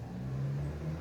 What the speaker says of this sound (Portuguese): Tem um carro levemente barulhento passando na rua agora.